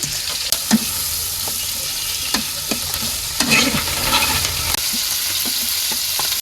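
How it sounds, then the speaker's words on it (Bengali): Onion and garlic paste fry in a wok while a spatula stirs them, a steady crackling sizzle broken by repeated sharp scraping clicks of the utensil against the pan, close and with no talk. "পেঁয়াজ রসুন ভাজা হয়ে গেছে"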